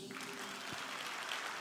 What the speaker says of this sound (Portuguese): Aplauda isso.